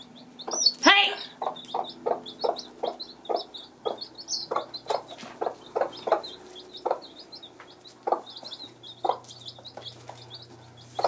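Hens cluck steadily in short, rhythmic bursts, with chicks peeping high and constantly beneath them and one louder squawk near the start.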